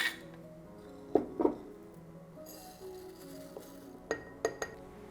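A glass mason jar clinks several times in separate bright taps while oats are added, the handling close and clear over a quiet room.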